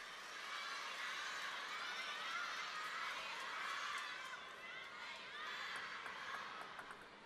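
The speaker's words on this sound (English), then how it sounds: "Big shout, big reaction from the crowd as Sun Yingsha moves to 9." A packed arena crowd roars and cheers in one sustained, loud wave during a women's table tennis semifinal, the noise holding steady before easing slightly.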